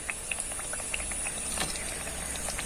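Raw potato snack pieces frying in oil: a steady, quiet bubbling sizzle with scattered small crackling pops throughout.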